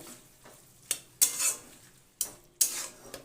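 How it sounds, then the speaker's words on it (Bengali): Fried prawns are stirred into ash gourd curry in a pan with a spatula. Several sharp scraping clanks come in uneven strokes, each fading into a soft rasp. "ভাজা চিংড়ি মাছ যোগ করে দিলাম। দিয়ে ভালোভাবে মিশিয়ে নেব।"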